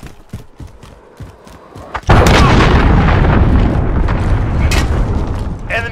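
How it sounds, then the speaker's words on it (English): A cruise missile blast in Call of Duty Modern Warfare: a few faint thumps and clicks, then a sudden loud booming explosion that roars and rumbles on with debris-like crackle until the end. "Enemy cruise missile!"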